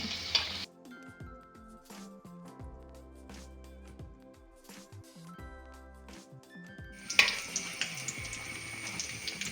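Wheat-flour and onion snacks sizzle in oil at the start and swell again near the end; quieter stretches between carry tonal ringing sounds.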